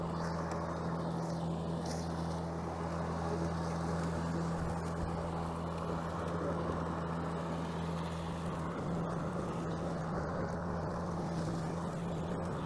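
A Ryobi 40v battery-powered self-propelled push mower runs outdoors with a steady, even whir and hum that holds at the same level throughout, with a breeze in the background and no talking.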